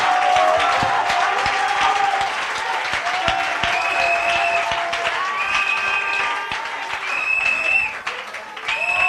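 A church congregation applauds throughout, with dense steady clapping and a few cheers, while a voice speaks and sustained musical tones ring over the crowd.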